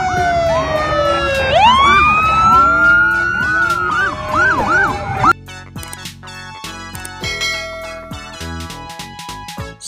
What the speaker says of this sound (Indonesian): Motor polisi.